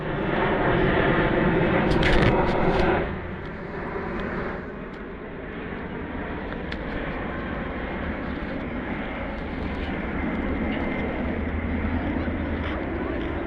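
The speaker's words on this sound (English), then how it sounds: "Very large plane, that one." A large airplane passes overhead at an outdoor protest near Windsor Castle, giving a loud, broad engine roar that swells early and then holds as a steady rumble.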